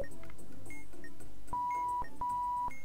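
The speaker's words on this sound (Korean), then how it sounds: "노란색이 빛나면서 삐삐 이랬어" Electronic beeps from a bomb module in Keep Talking and Nobody Explodes after its red button is pressed: two steady tones, each about half a second long, in quick succession over faint game background sounds.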